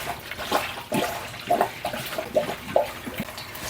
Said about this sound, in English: Now let's try dumping the antifreeze in this time